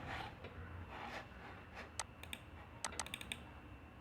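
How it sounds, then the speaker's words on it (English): Light keystrokes on a computer keyboard, a few isolated taps followed by quick clustered bursts of clicks, close and fairly soft against a low steady room hum with no talking. "let me type some text in this field"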